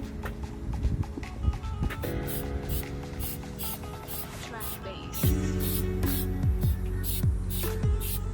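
An aerosol can hisses as undercoat is sprayed onto a rusty semi truck chassis, in a steady spray with short bursts and light knocking and scraping sounds. The hiss grows louder and heavier toward the end.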